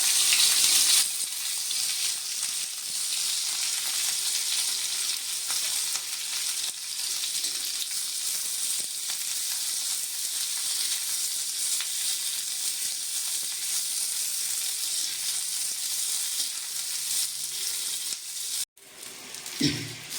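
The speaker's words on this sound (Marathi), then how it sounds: "आपण आता एक चमचाभर तेल टाकूया मिरची भाजण्यासाठी" Broken green chillies roast in a spoonful of hot oil with a loud, continuous frying sizzle and hiss that holds steady for about twenty seconds before a brief break near the end. No one speaks.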